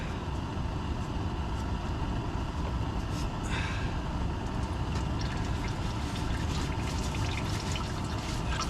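Fluid drains steadily out of a GMC truck from the filter area on the cross member, a continuous wash of pouring and dripping liquid that carries on throughout without talk.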